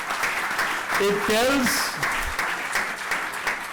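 Audience applause at a book launch, continuous clapping with a voice speaking over it partway through.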